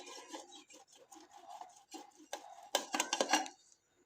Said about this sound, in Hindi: इसमें हम करेंगे आलू को कद्दूकस